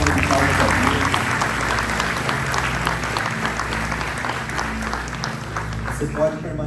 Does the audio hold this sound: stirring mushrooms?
no